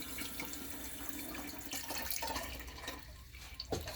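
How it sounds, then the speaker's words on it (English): Water runs from a faucet into a newly installed custom sink in an RV bathroom, a steady close splashing hiss with faint dripping through the whole stretch. "There's our faucet."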